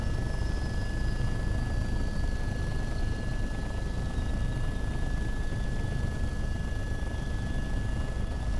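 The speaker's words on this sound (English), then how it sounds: "I'm flying out the helicopter" Steady helicopter rotor and engine drone inside a military combat video game, with a thin high whine laid over it, continuous and fairly loud, with no speech.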